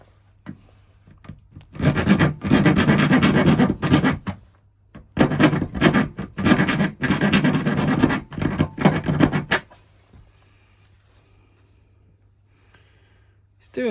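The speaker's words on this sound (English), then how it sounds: "Rasp, this is a woodworking one." A woodworking rasp files away to hollow out a part for a koi grow-on tank heater fitting, giving close, loud bursts of rough scraping strokes in two long runs, then falling quiet.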